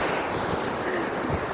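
Sea waves washing at a beach, a loud continuous rushing surf with wind noise on the microphone, no talk.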